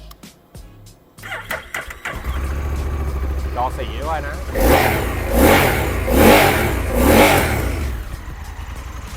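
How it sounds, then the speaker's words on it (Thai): A 2024 Honda NT1100 DCT motorcycle engine with 12,000 km cranks and catches, then idles and revs up three times in surges, close by, with brief talk at the start. "ไปฟังเสียงเครื่องกันหน่อย"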